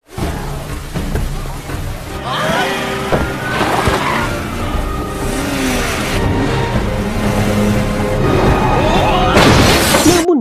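Film car chase with a car engine revving hard, tires squealing and glass shattering amid loud, dense action sound effects and music, building in intensity toward the end.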